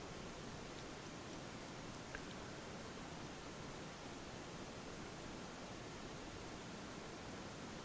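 Cheap budget espresso machine frothing milk with a steady, even hiss of steam that runs unbroken from start to finish at moderate level, with no voices over it.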